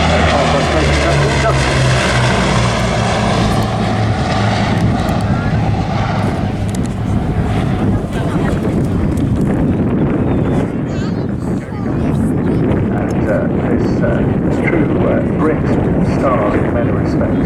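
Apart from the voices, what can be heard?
Bristol Blenheim IF propeller aircraft flying at airshow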